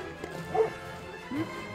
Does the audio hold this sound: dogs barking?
yes